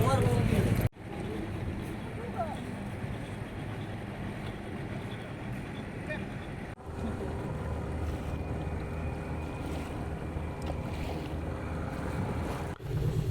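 Steady wind and lapping waves at a waterfront in Labuan Bajo while boarding a boat, a continuous loud wash of wind noise and water with a few brief cuts, with people talking in the background.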